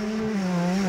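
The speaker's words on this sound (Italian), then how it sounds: "Senti il motore." A 2008 KTM 125 EXC two-stroke motorcycle engine runs loudly and close, a steady buzzing drone with a slight rise in pitch over one second.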